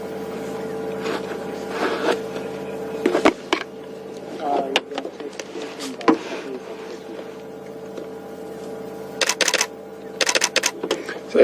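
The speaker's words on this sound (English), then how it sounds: "if you hear that clicking there, don't worry, it's just me taking a few snaps" A camera shutter clicks in quick bursts while a leopard cub is photographed on a safari drive, sharp close clicks scattered over an idling vehicle engine hum.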